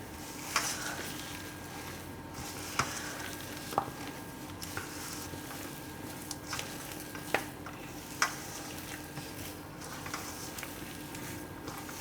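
Sweet potato and fenugreek tikki mixture being mixed by hand, with soft squishing and stirring and occasional light clicks and taps recurring at a close, quiet level.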